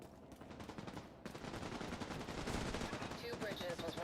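Gunfire in The Division 2 video game, a quiet, steady stream of rapid shots and distant bursts that grows denser after the first second, with a voice faintly present in the mix.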